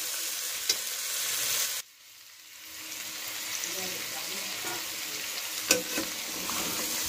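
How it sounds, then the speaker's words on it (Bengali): Mutton frying with spices for a railway-style mutton curry, stirred gently in the pot with a close, continuous sizzle; a brief scrape and dip in the middle, then the frying resumes with occasional clinks. "মাটনটা কিন্তু ধৈর্য ধরে আলতো হাতে সময় নিয়ে সুন্দরভাবে কষাতে হবে।"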